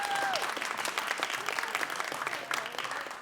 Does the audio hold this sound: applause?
yes